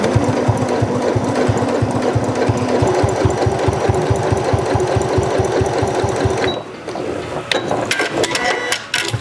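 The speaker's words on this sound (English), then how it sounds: "I'm just going to sew down the ends of both sides of the tab." A sewing machine stitches down the ends of a fabric tab with a fast, even, close mechanical chatter for about six seconds. It then stops and leaves a few light clicks and handling noises.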